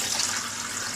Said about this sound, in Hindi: और 1 कप पानी इसमें ऐड करेंगे